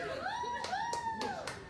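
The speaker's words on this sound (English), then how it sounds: "Why are you clapping?" Four crisp hand claps at a slow, even pace from someone during a Call of Duty Black Ops 6 gaming session, heard over voices talking.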